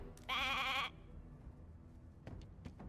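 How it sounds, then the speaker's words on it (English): A sheep in the Divinity video game gives one loud, clear bleat of under a second, followed by quieter soft clicks and ambient game sounds. "Hey, a sheep!"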